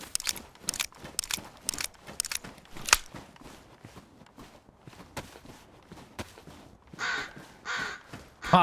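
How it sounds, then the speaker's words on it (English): Crows caw in a dark video game scene, sharp repeated calls in bursts with crunching footsteps and quieter caws later, loud and near. "Ah, the fucking crow scared the shit out of me"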